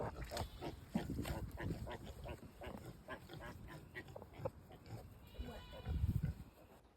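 Pigs grunt and squeal as a piglet is put back with its mother sow, in short repeated bursts close by, while people talk over them.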